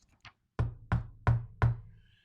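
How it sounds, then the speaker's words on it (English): A faint tap or two, then four firm, evenly spaced knocks on a door, close and distinct against near silence. "he heard a knock at his door"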